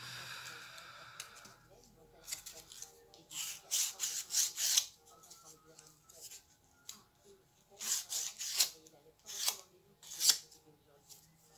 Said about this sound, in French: un petit coup de grattoir